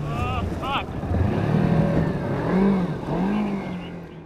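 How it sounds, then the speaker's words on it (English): A Kawasaki Versys-X 300 motorcycle rides along with its engine note rising and falling as it revs, close and moderately loud, while a rider's voice talks over it. "First adventure ride on the Versys."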